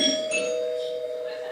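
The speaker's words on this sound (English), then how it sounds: "The doorbell rings again." A doorbell rings indoors with a sustained electronic chime, one clear held tone that sounds close and fairly loud before slowly fading.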